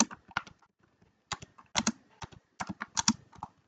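Keys clatter on a computer keyboard in quick bursts of close, crisp taps, pausing briefly between words, with no speech.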